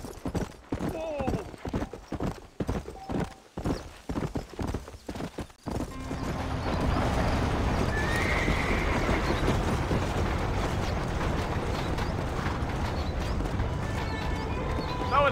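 In Red Dead Redemption: Undead Nightmare, a horse's hooves clip-clop in uneven bursts and the horse neighs, then a steady, busy wash of game sound takes over.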